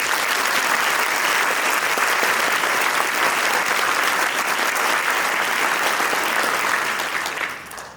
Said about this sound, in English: would like to ask you to join me in a round of applause for these fierce and powerful superheroes